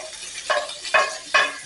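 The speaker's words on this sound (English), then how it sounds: "My beef haché is cooking nicely. And I'm just going to take my spatula, press down, and now that it's smoking a lot" Beef haché patty sizzling in a hot, smoking pan, with three short surges of louder hissing as a spatula presses it down, over a soft continuous sizzle.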